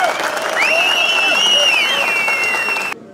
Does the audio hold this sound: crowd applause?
yes